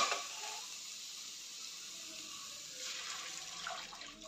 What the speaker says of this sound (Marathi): 2 ग्लास पाणी घालते.